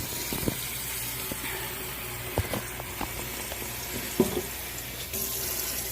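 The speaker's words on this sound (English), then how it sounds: "I'm going to fill this pan up with water" Tap water runs steadily into a cooking pan being filled for spicy noodles, a continuous hissing splash with a few clinks of the pan, close and moderately loud without talk.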